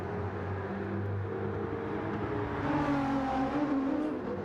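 A Nissan GT-R race car engine revs steadily in a racing video game, a loud, continuous motor drone with rising and falling pitch that runs throughout without talk.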